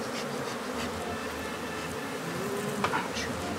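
A swarm of killer bees buzzing around a removal expert, a dense, steady drone filling the whole stretch at close range, with a brief knock near the end.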